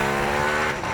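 A Ducati Multistrada V2 S motorcycle engine runs loud and close, a dense, steady mechanical roar held for a single second with no voices.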